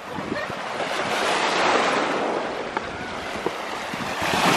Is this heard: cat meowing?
no